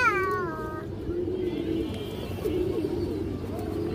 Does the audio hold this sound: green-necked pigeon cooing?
yes